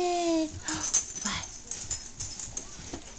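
A dog whimpers and yips in a scrap room, a series of high, thin whines and short squeaky cries rising and falling close by, with breathy snuffles between them.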